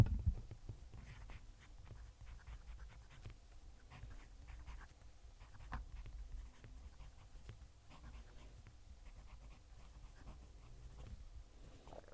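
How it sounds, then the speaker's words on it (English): An Italian fountain pen nib scratches across paper in soft, irregular strokes close to the mic, a faint dry scratching under a steady low room rumble with no voices. "Going to move the mic so you can hear the pen writing."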